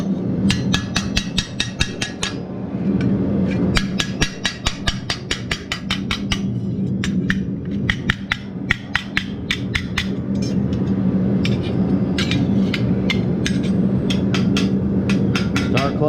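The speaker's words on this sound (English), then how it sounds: "I'm going to do the majority of every bit of this with the ball peen, but all I'm doing is dishing this out." A ball peen hammer dishes out sheet metal for a grease lamp with sharp, ringing strikes in quick bursts and steady runs. The blows are loud and close, and short pauses separate the groups.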